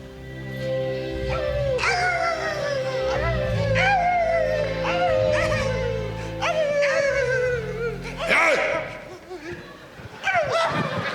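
Comedy performers imitating dogs on stage in a Kazakh KVN-style skit, a string of loud vocal yelps, whimpers and howls repeating in bursts over about ten seconds, mimicked by human voices rather than real dogs.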